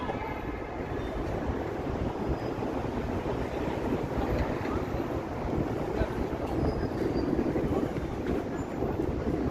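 Steady wind buffets a microphone outdoors on Bay Street in downtown Toronto, a continuous low rumbling roar with no speech.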